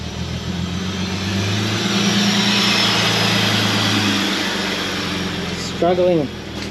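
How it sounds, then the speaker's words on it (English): A Holden ute that ran when parked, its engine running with a racy exhaust and struggling on low fuel, gives a steady, loud rumble that swells and eases, with a brief voice near the end. "Fairly racy exhaust by the sound of that."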